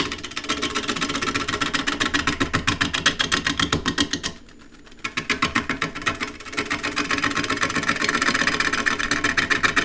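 Wood lathe roughing the profile of a natural-edge tripod bowl with a half-inch spindle gouge, giving a loud, steady rhythmic thumping chatter as the gouge meets the spinning uneven blank, briefly dropping away mid-cut, no talking.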